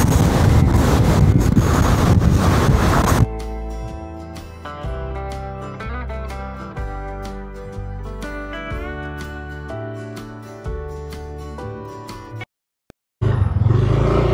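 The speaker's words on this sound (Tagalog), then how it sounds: "Kailangan natin magmadali mga kapengyo kasi medyo malakas na yung hangin." Loud, blustery wind roars against the microphone for about three seconds, then gives way to music with steady tones, briefly cutting to silence near the end.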